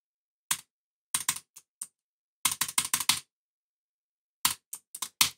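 Someone types a number code on a computer keyboard: quick bursts of crisp key clicks separated by short pauses, close and alone.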